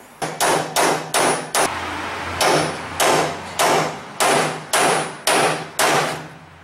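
Metal hammer blows striking a door hinge pin on a Fiat 147 during door restoration, about a dozen sharp ringing impacts in irregular bursts, close and loud, with no voices.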